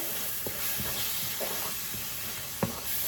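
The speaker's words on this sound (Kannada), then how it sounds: "ಮಸಾಲೆ ಒಳ್ಳೆ ಫ್ರೈ ಆಗಲಿ. ಫ್ರೈ ಆಗಬೇಕು ಮಸಾಲೆ ಫ್ರೈ ಆಯಿತು." Masala spice powders, jeera powder and chilli powder, fry in a pan for rajma masala, making a steady close sizzle and hiss broken by soft stirring scrapes and a few light clicks.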